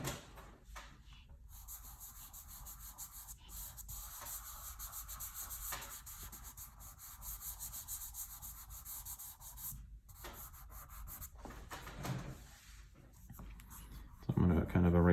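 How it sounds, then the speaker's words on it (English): An eraser rubs across paper while shading a pencil drawing, producing soft, close scratchy strokes in irregular bursts with short gaps, and a louder thump near the end. "so I just don't push as hard with the eraser"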